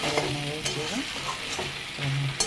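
Food frying in a pan at a home kitchen while being stirred, a steady close sizzle with scraping stir strokes and brief clinks, no voices.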